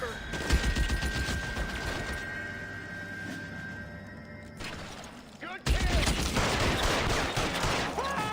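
Repeated gunfire in the crime video game L.A. Noire, bursts of shots over the first several seconds, loud and close, with game music and effects continuing beneath.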